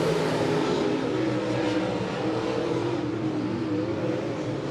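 Late model race cars lapping Monett Motor Speedway, a steady loud roar of engines droning together without a break, slight shifts in pitch as the pack passes, no talking.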